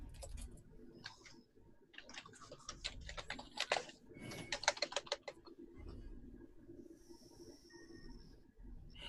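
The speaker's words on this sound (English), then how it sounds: "Typing is hard." Irregular bursts of faint computer-keyboard typing, with quick clicks clustering and pausing, over a quiet background.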